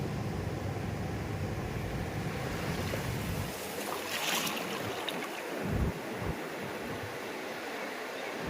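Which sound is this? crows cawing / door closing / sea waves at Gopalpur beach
sea waves at Gopalpur beach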